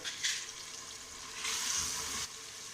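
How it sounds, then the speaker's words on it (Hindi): Tomatoes with turmeric, salt, red chilli powder and whole spices fry in a pan for a bottle gourd and chana dal dish, a steady sizzle that surges louder in two bursts, with no talking. "टमाटर फ्राई हो चुके हैं"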